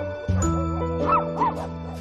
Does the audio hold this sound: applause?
no